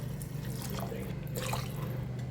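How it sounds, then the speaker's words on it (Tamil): Water is poured into a pot of rice for a carrot and beans biryani, making a steady splashing, trickling pour up close with a low background hum. "தண்ணி ஆட் பண்ணிக்கிறேன்."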